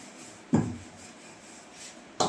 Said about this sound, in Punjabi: ਵੇਲ ਕੇ ਇਹਨੂੰ ਸਿੰਪਲ ਰੋਟੀ ਦੀ ਤਰ੍ਹਾਂ